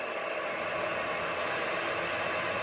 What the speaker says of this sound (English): Excuse my scanners; they're going off in the background.